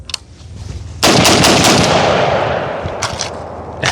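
A budget home defense rifle fires a full magazine in rapid succession. The loud, close shots merge into a dense, sustained roar, and a few separate cracks follow at the end.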